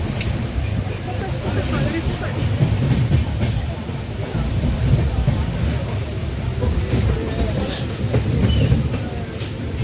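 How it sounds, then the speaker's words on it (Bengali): Heavy, continuous rumbling of a train pulling out of Bankura, with rattling wheel clatter and occasional higher squeaks, close and loud throughout. "ট্রেন দিয়েছে ছেড়ে"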